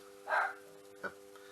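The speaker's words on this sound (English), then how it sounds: "do ignore Tyrion barking away" A dog gives two short barks, the first fuller and the second brief and clipped, fairly faint against a steady electrical hum.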